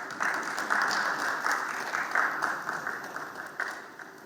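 Audience applause welcoming a speaker at a live-streamed analytics event, a steady wash of many hands clapping at moderate volume that holds for several seconds before thinning out toward the end, with no voices over it.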